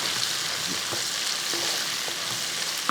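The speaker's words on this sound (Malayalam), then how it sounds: "ആ സവോള ഇട്ടതിന് ശേഷം എല്ലാം കൂടെ കൂട്ടി ഒന്ന് ഇളക്കി കൊടുക്കും" Sliced onions frying in the pan for a chicken curry, stirred together: a dense, even sizzle throughout with a few soft spatula scrapes and taps.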